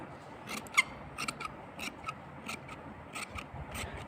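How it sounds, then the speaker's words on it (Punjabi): Fabric being snipped with scissors, cutting a square of cloth for a salwar hem design, with a run of short, crisp snips at an uneven rhythm, close and fairly faint, with no talking. "ਪਹਿਲਾਂ ਆਪਾਂ ਟਾਈ ਇੰਚ ਦੇ ਚੌਰਸ ਕੱਪੜਾ ਕੱਟ ਲੈਣਾ"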